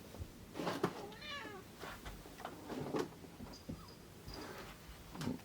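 A pet cat meows repeatedly in complaint at being stopped from climbing on boxes, close-up and fairly quiet, with several short drawn-out cries and soft breathy sounds between them.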